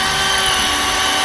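A power drill whirs continuously and loudly, driving a screw at an angle into subfloor end grain during a narrowboat fit-out.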